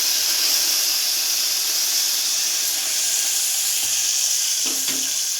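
Onions and green chillies frying in a pan for sagu, a loud, dense, continuous sizzle with a few faint stirring knocks near the end, no voices.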